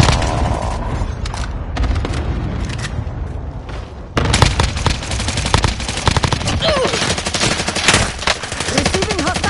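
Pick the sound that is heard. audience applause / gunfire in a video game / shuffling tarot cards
gunfire in a video game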